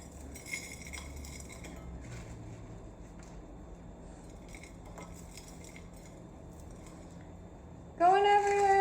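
Spoon stirring a coffee granola mixture in a dish, faint scraping and light clinks of utensil on dish, steady and soft, with a louder tonal sound at the end.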